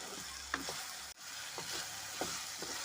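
Cashews sauté in a pan for paneer gravy, with a soft sizzle under it. A spoon stirs at intervals, giving a few light scrapes and clicks.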